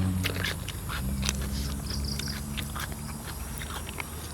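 Someone bites and chews crunchy blanched squid dipped in spicy seafood jaew sauce, a run of close, crisp crunches and wet mouth sounds over faint background noise.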